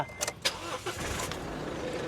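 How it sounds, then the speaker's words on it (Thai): A 2019 Isuzu D-Max 1.9 diesel pickup with a manual gearbox starts with its hood open: a few brief clicks, a short cranking whir, then the engine catches and settles into a steady, close diesel idle. "ขออนุญาตสตาร์ทเลยดีกว่านะ"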